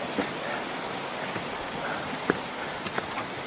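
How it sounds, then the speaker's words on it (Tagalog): Steady hiss of heavy rain with a dense wash of drops, occasional sharper taps standing out, no voices. "Patay, lumakas yung ulan."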